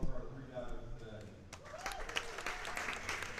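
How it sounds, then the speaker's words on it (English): A crowd at a boys' swim and diving meet breaks into applause for the divers that swells and continues, with a voice speaking over the start and a faint background murmur. "Open nice round of applause for our 3 divers today"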